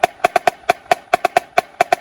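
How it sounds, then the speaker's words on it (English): An open double stroke roll exercise played on a drum: crisp, ringing hits fall in quick pairs in a steady pulse, loud and close, with no voices. "We want a nice open double stroke roll."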